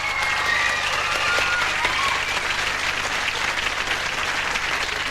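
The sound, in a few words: audience applause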